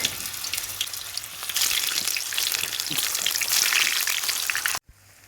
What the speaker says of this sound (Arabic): غادي درك نديرهم ديريكت في المقله في الزيت سخونه